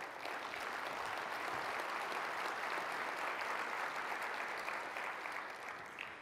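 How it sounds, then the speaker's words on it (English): An audience at the Percona Live 2014 conference keynote applauds the sponsors, a full, steady wash of many people clapping that holds evenly and tapers slightly at the end. "Why don't we give our sponsors a round of applause?"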